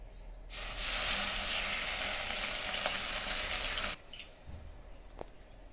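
Milk poured into hot ghee in a pan for kalakand gives a loud, steady hiss and sizzle lasting about three and a half seconds, then cuts off sharply into quiet kitchen background.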